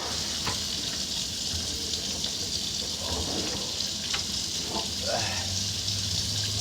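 Hot water pours for morning coffee, a steady watery rush with a faint hiss and a short gurgle near the end, with talk in the background.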